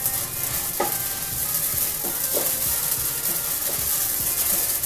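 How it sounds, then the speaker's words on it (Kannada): Spices and poppy seeds dry-roasting in a pan on low flame for bisi bele bath, with a steady soft sizzle and repeated scraping stirs throughout, close and continuous. "ಈಗ ಇವೆಲ್ಲನೂ ಚೆನ್ನಾಗಿ ಮಿಕ್ಸ್ ಮಾಡ್ಕೊಳ್ತಾ ಹುರ್ಕೊಳ್ಳೋಣ ಸ್ವಲ್ಪ ಹೊತ್ತು"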